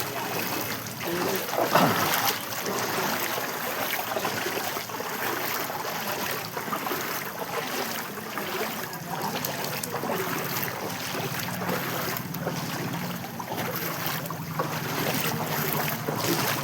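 Floodwater rushes after heavy rain in a residential area where a drain has overflowed, making a constant broad gushing roar, fairly close and steady throughout.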